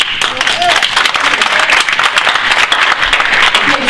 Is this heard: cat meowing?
no